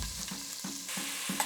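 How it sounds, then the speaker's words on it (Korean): Bacon frying in a generous amount of olive oil in a pot, a steady close sizzle with regular stirring scrapes, no talk. "이걸 넉넉히 둘러줘야 베이컨이 튀기면서 구워지고"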